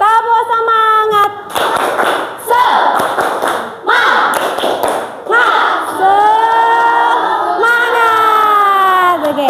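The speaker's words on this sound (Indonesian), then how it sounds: "Kita tepuk semangat dulu. Tepuk semangat." An Indonesian classroom performs the 'tepuk semangat' spirit clap, voices chanting in unison between sharp group clap bursts, a rhythmic call-and-clap pattern that ends with a long sustained shout.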